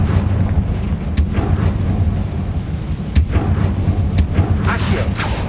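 A Confringo fire spell explodes in a Hogwarts wizarding game, a loud, rumbling blast with several sharp crackling bursts spread across a dense, roaring wash of noise.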